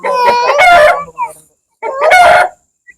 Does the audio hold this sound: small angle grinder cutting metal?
no